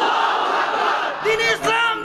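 A large religious gathering answers a takbir call, a massed crowd chanting loudly in unison in a short burst of roaring voices.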